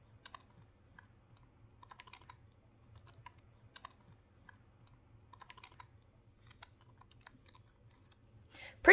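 Keystrokes on a computer keyboard while a new password is typed, soft clicks coming in short scattered bursts at close range with no one talking, ending in a sudden louder clatter.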